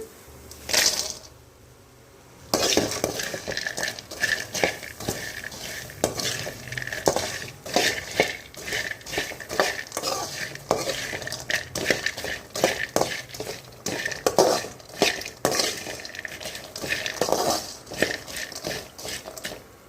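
Okra fry being stirred in a pan, with a spatula scraping and clinking against metal in a busy rhythmic stream over a light sizzle, close and continuous for about twenty seconds after a short pause, without talk.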